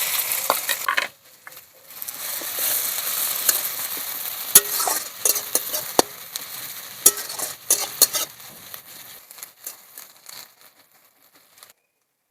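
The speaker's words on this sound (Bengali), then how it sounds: "তেল গরম হয়ে গেছে, এবার দিয়ে দেবো কুচিয়ে রাখা পেঁয়াজ।" Chopped onions hit hot oil in a pan and sizzle steadily while a utensil stirs and scrapes with sharp clinks and rustles, then the frying fades toward the end; nobody speaks.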